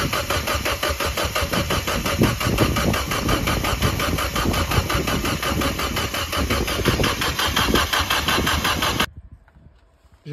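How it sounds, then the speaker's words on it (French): A turbocharged Mazda MX-5 engine, freshly reassembled after a cylinder head rebuild, runs loud and steady at close range for about nine seconds, then cuts off abruptly into near silence. "je vais remplir et je vais démarrer pour faire tourner le circuit d'eau"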